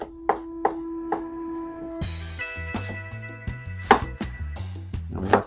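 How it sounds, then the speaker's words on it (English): Knife chopping green onions on a board for Jamaican curry chicken: a few slow, spaced cuts, then quicker irregular chopping with sharper knocks, close and clear over a faint tonal background. "And some green onion guys, cutting that."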